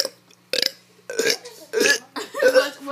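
A child lets out a series of loud, close burps, about four or five croaky bursts in quick succession after a brief quiet start.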